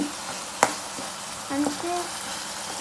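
Mustard seeds and cumin sizzling in hot frying oil for upma, with a few sharp pops and crackles over a soft, steady hiss, fairly quiet with light stirring clatter.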